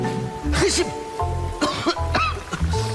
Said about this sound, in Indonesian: Beneran flu dan batuk nih.